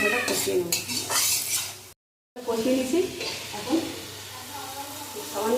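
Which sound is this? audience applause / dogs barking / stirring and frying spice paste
stirring and frying spice paste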